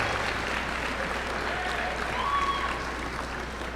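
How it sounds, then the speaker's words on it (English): A large commencement audience at Touro College's graduation ceremony applauds steadily to thank the graduates' family and friends, a dense, even wash of clapping that fills the hall throughout. "give a round of applause to thank your family and friends who have helped you along the way"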